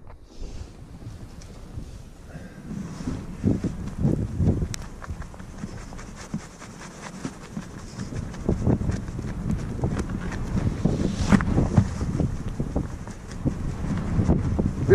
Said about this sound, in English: A bit windy today, you know.